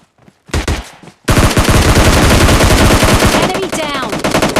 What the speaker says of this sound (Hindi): आप देखिए पीछे से बंदा फायर किया।